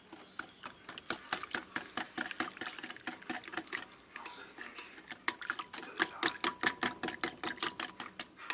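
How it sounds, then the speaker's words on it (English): Wet ingredients for hamburger buns are whisked briskly in a bowl, a rapid, steady run of close clinking strokes continuing without pause. "we're going to whisk together these wet ingredients very well"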